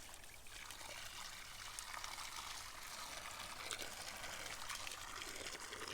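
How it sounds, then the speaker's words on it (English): Water pours and trickles into a homemade off-grid foot bath in a steady, hissing stream that continues for several seconds at moderate volume, with no speech. "I'll fill it up with water now, try it out."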